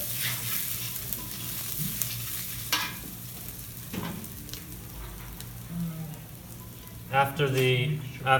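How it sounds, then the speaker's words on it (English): Ginger fries in a pan with a steady close sizzle and occasional stirring clatter, and a voice speaks briefly near the end. "Ginger will be just a little bit fried."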